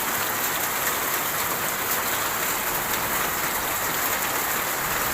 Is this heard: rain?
yes